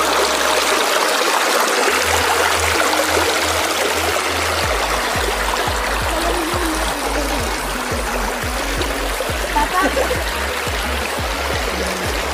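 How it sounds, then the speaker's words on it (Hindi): A stream runs over rocks outdoors with a steady, full rushing and gurgling, close and continuous throughout, beneath a low rumbling undertone. "पानी की आवाज़ बहुत प्यारी है यहाँ पे"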